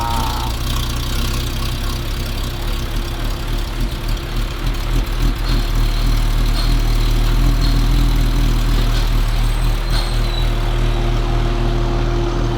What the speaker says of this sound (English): Let's listen to a cold start.